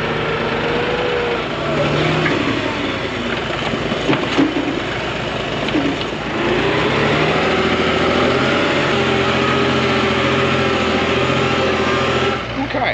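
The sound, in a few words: old excavator engine idling while warming up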